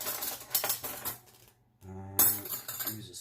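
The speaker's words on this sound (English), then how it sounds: "Use a spoon. Give it just a stir." A spoon stirs oats in a pot, with irregular metallic clinks and scrapes against the pot and a brief quiet pause midway.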